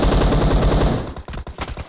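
Rapid automatic gunfire in a shooter video game, a dense burst of loud rattling shots followed by a few separate sharp reports, close and alone.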